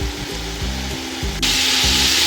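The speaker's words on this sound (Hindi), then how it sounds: "ये माशाल्लाह से मसाला हमारा भुन चुका है" Spiced masala with red chilli, coriander, crushed salt and turmeric fries in a pan for aloo dum biryani, giving a steady close sizzling hiss that suddenly grows louder over a repeating tonal pattern.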